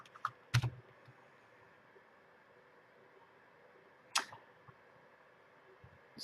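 Two short bursts of typing on a computer keyboard, one near the start and one past the middle, close and quiet against a faint room hum.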